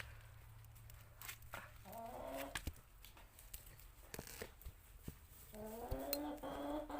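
Chickens cluck and squawk close by in short bursts, with scattered pecking and rustling sounds between calls, fairly quiet overall.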